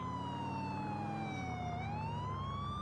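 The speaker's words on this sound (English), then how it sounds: "Simply turn your sirens on," A police siren wails at a distance, its pitch sliding down and then back up in a smooth sweep, faint but continuous.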